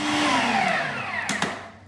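A blender whirs steadily as it purees hummus of chickpeas and olive oil, its motor pitch dipping slightly under load, with a couple of sharp knocks near the end before it winds down.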